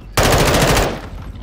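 Automatic weapon fire in a Call of Duty gun game private match, one rapid burst of about a dozen close, loud shots lasting under a second, then trailing off into echo.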